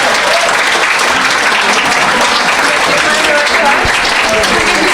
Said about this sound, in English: Give the sponsors a big round of applause.